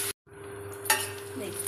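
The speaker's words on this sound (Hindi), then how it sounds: "इस प्याज को भी हम हल्का भून लेते हैं" Chopped onions frying and being stirred in a pan for a bitter gourd and onion curry: a steady close sizzle with scraping stirs, broken by a brief silent gap near the start.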